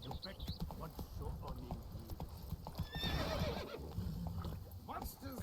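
Roach the horse gallops in The Witcher 3, with rapid rhythmic clip-clop hoofbeats and a whinny, while a voice talks over the hooves.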